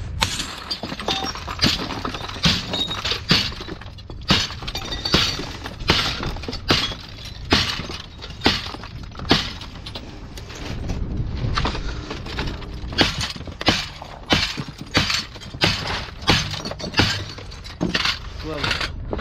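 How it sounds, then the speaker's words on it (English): Glass is smashed repeatedly for fun, with a rapid, irregular series of loud crashes and tinkling shatters running continuously throughout, mixed with people talking. "breaking glass for fun"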